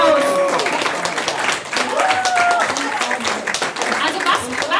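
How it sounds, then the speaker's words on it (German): Audience applause at a live comedy show, a dense wash of clapping with cheering and crowd voices mixed in, loud and continuous throughout. "Das verdient Applaus."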